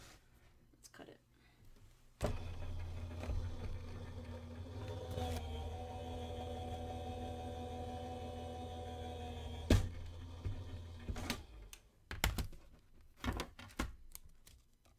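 A handmade Frida Kahlo card is cut, likely on a machine, with a steady motor hum running for several seconds between sharp clicks and thumps, close and quiet, with soft handling noises at the end.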